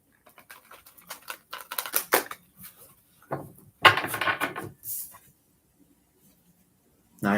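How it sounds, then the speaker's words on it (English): Tarot cards shuffle in quick riffling bursts of papery flutter and soft taps, close and fairly quiet, with pauses between bursts and a final snap at the end. "One more good shuffle."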